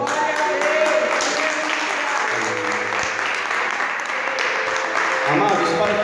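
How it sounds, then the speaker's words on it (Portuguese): A church congregation applauds at a worship service, a dense, continuous roar of many hands clapping, with voices heard in the mix. "Aplauda o Senhor."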